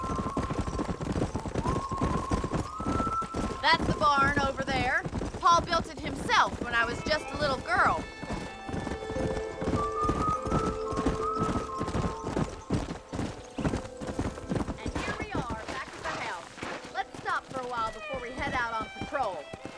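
Hoofbeats of a horse galloping in the Red Dead Redemption video game, a fast steady clip-clop running throughout with occasional whinnies, under spoken character dialogue and game music.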